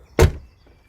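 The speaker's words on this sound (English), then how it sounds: "Let's just open the doors." A car door on a Mini 1.6D Cooper hatchback opens with a single short, solid clunk of the latch, close and alone, followed by a faint softer sound.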